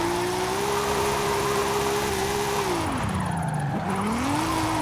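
BMW drifting under an e-brake pull in Forza Horizon 5, engine droning steadily with pitch dipping and climbing as the car slides, layered over continuous tire noise and loud game ambience.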